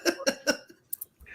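A person coughs three times in a quick, evenly spaced burst, close to the microphone, followed by a couple of small throat sounds and breaths in a quiet room.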